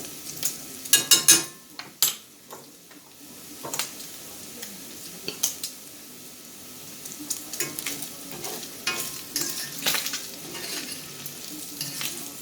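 Bacon frying in a pan until crispy, a steady sizzle broken by bursts of sharp scraping and stirring clatter, loudest early on, with no talking.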